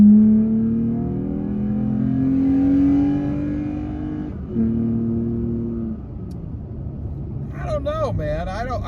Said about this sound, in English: I'm going to get back up to 40, and then I'm going to nail the gas again like I just did